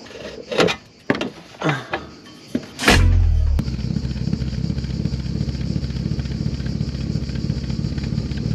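A BMW E36 325i with its catalytic converter removed and an M3 intake sits behind a rear silencer. After some light clatter and knocks, the engine fires with a sharp burst and settles into a loud, close, steady idling rumble.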